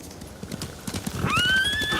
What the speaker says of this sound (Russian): Скоты напугали лошадей. Это лошади самураев.